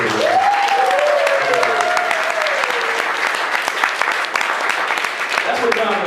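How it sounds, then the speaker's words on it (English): A comedy club audience breaks into steady, full applause, and a voice rises and falls over the clapping before it thins slightly toward the end. "let's hear a round of applause for all our wonderful comedians out here."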